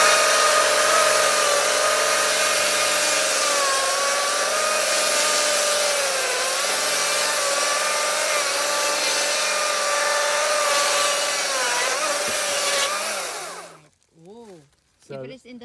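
A Stihl MSA 220 C battery electric chainsaw cuts through hard firewood with a loud, steady whine that shifts slightly in pitch under load, then stops, leaving short voices afterward.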